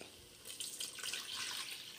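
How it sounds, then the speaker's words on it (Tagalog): Water runs and splashes into a cooking pot holding goat meat for kabsa, a brief close pour that swells and hisses with no voices. "Pupunuin lang natin ng tubig yung kaldero para mas lumambot na lumambot yung ating karne."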